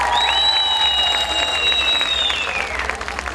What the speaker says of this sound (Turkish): Bir de şöyle çığlıklarla kendinize bir alkış